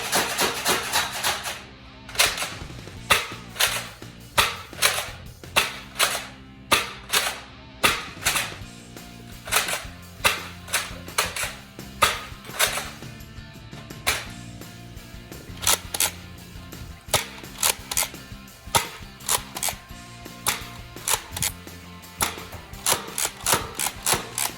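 An X Shot Ranger toy blaster slam-fires in a long series of sharp plastic clacks and thumps, repeating in quick irregular bursts with brief gaps, close and clear.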